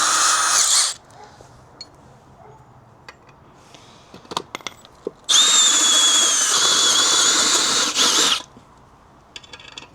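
A power drill bores in two loud bursts during a solar panel tracker build: a short one at the start and a longer three-second run later, with faint workshop clatter in between and no talk.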